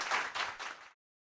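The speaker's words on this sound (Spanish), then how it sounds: "un fuerte aplauso para ellos" Brief burst of audience applause after a stage appearance, a dense wash of clapping in three swelling waves that stops abruptly under a second.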